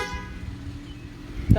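A car horn gives a short, clear toot in city traffic in Abidjan, heard close from inside a moving car over a low engine rumble.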